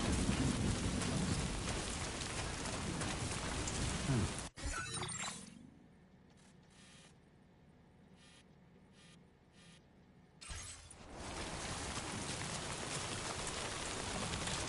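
Steady heavy rain with thunder in the video game Death Stranding 2, a loud dense downpour that drops out to a quieter muffled stretch before returning at full strength.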